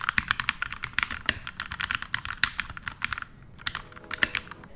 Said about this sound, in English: I ended up going with the red Gateron switch because I really liked the sound profile for the switch.